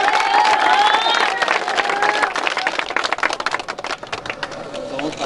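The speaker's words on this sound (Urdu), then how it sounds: "بھرپور تالیاں جی نزار حسین کے لیے." At a freestyle polo tournament in Gilgit-Baltistan, an outdoor crowd claps and cheers loudly for the man of the match. Dense clapping mixes with whistles and shouts, then thins slightly toward the end.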